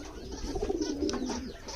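Domestic pigeons cooing in a small hobby farm loft, a steady layered burble of soft, low coos from several birds close by, continuous across the clip with no talking.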